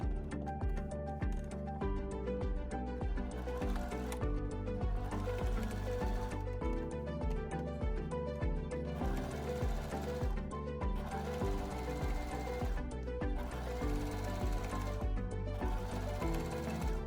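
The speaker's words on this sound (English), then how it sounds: "Switch to the front facing side and understitch from the bottom marking on the facing to the bottom edge of the shirt" A sewing machine runs steadily while understitching a shirt facing, its rapid needle ticking forming a quiet, even rhythm with brief stops and restarts.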